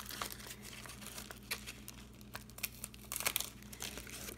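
Tape being handled and pressed onto a paper greeting card, with soft crinkling and crackling rustles coming in irregular bursts close by, growing busier toward the end, with no talking.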